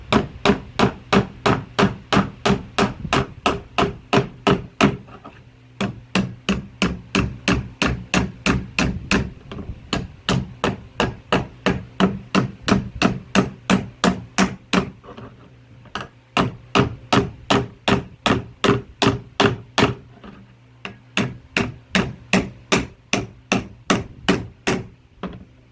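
A hammer taps to fit a latch, with sharp close strikes in quick, even runs broken by brief pauses, continuing for about twenty-five seconds.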